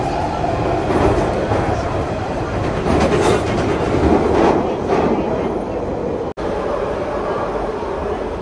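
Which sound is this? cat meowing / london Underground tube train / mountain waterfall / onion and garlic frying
london Underground tube train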